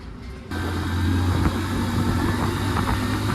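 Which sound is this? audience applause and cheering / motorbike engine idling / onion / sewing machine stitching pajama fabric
motorbike engine idling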